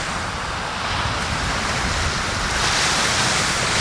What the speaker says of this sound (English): Made it onto the beach.